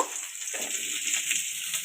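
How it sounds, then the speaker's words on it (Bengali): Sajne data (drumstick pods) frying in hot oil, a steady soft sizzle and crackle holding at an even level throughout, alone with no voices. "সজনে ডাটাগুলো একই রকমভাবে ভেজে নেব"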